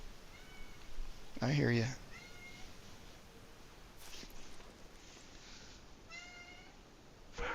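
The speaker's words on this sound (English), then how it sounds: "Now my cat's looking for me. What's going on, kitty?" A pet cat meows several times, close and fairly loud, with one strong drawn-out meow followed by shorter ones, while someone talks quietly in between.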